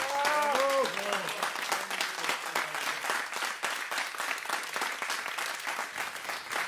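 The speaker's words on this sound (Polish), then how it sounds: "Również ogromne brawa" Studio audience applause after a jazz performance, a steady dense clapping that runs the whole time, with a few sung or spoken tones at the very start.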